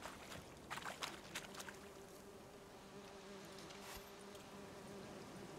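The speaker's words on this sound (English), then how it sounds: "Oh no, it's a beehive, never mind." Bees buzzing around a beehive in the Witcher 3 video game, a steady faint insect drone with a few louder bursts near the start.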